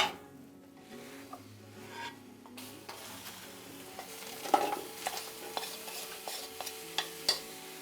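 Grated vegetable tipped into a small pot and stirred, soft sizzling under irregular scraping and knocking of a spoon against the pot, close and fairly quiet, with no talking.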